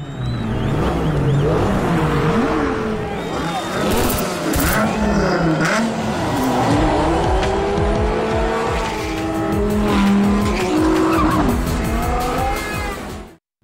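Street-racing cars including a Nissan GT-R R35 roar past in a film scene, engines revving and tires squealing in repeated bursts, loud and dense with overlapping mechanical noise.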